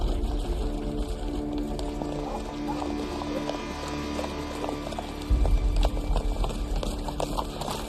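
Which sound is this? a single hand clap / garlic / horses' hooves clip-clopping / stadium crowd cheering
horses' hooves clip-clopping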